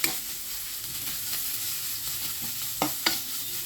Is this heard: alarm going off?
no